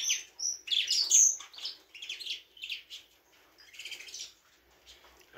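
Canaries chirp and twitter in a breeding cage, where females and males are kept together. The bright, high calls come in busy overlapping bursts that are loudest early on, then thin out to scattered softer tweets.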